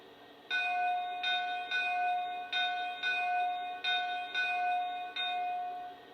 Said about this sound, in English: Next, here's the bell.